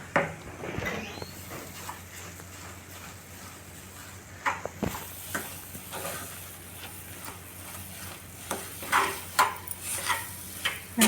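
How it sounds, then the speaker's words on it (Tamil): Milk and sugar are stirred in a cooking pot with a spoon, giving soft, irregular scraping and tapping strokes at close range against a faint background hiss. "நல்லா கட்டி இல்லாமல் எல்லா பக்கமும் நல்லா கலந்து விட்டுடலாம்"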